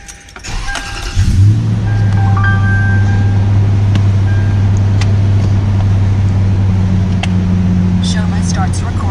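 Toyota 4Runner engine cranks and catches, then settles into a steady low idle rumble heard from inside the vehicle, with a few faint clicks and rattles, after soft handling noises.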